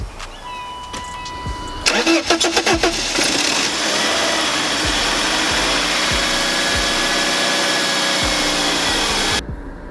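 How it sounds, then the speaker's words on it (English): A BMW E36 car engine cranks briefly with a few rapid starter turns, then catches and settles into a steady, close running hum that holds for several seconds before stopping. "What we're gonna do now is crank this bad boy up and see how she runs"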